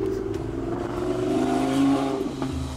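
A pink Lamborghini's engine revs steadily, its tone rising and swelling to a louder peak near the middle before easing back, heard close up with no talking over it.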